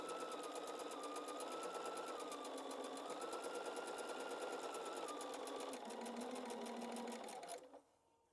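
A sewing machine runs continuously along a door banner seam, a fast, even whirring stitch heard close and alone for about seven seconds before it winds down and stops.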